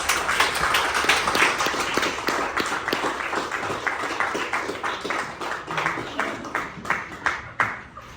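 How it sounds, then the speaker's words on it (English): An audience applauds the actors after a stage play about Tombstone history, with many distinct hand claps forming a brisk, rhythmic patter that tapers toward the end. "Now I ask another round of applause for the actors, folks."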